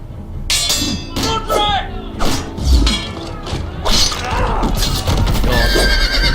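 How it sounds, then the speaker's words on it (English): A horse whinnies loudly and tramples in a Game of Thrones video game, its neighs rising over heavy thuds and a crashing, shattering impact, with voices speaking amid the commotion. "Oh, what a way to go. Squished by a horse."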